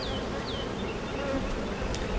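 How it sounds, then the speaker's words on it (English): A swarm of honeybees drones steadily at an open hive box, a dense continuous buzz up close with occasional individual bees zipping past. "There's a lot of bees down in the box though"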